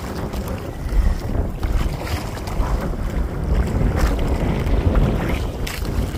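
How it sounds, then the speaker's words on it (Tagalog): Strong storm wind on a small fishing boat at sea, buffeting the microphone in continuous heavy gusts with low rumbling bursts, mixed with water and boat noise throughout. "Ang hangin, may bagyo eh."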